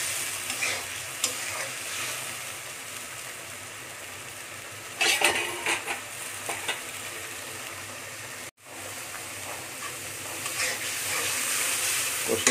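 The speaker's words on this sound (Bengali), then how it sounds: "আরো কষিয়ে নেব।" Kali baush fish sautéing with spices in hot oil while being stirred; an even sizzle with bursts of scraping around the middle, a brief dropout, then sizzling resumes, close and without talk.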